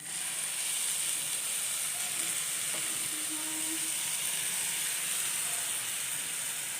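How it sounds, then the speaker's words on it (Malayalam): Half a cup of hot water hits anchovy masala frying with onions and spices in a pan, setting off a loud, continuous sizzle and steamy hiss that stays steady the whole time, close up, with no talking. "ഇനി ഒരു 1/2 കപ്പ് ചൂടുവെള്ളം ഒഴിച്ചു കൊടുക്കുക."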